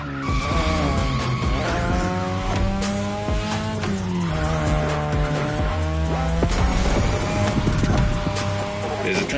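A 2002 third-generation Mazda RX-7 with a rotary engine races in The Crew Motorfest, its high engine note shifting through gears over sustained tire squeal and skidding, loud and continuous throughout.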